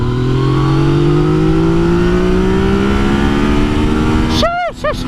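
A Yamaha XSR900 motorcycle pulling hard at full throttle, its engine note climbing steadily and loud with strong wind noise, then dropping abruptly as the rider shifts near the end.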